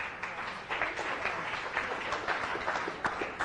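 Audience applause at a trustee training session for a private bank in Chicago, a steady wash of many hands clapping at moderate distance, sustained evenly with no voices over it.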